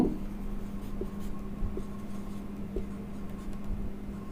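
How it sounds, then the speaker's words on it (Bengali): Steady scratchy strokes of a pen or marker writing on a board during a chemistry lesson, continuous and fairly close over a low background hum. "দেখো এটা লিখছি"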